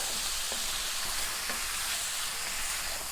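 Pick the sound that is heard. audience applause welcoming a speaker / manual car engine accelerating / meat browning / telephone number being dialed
meat browning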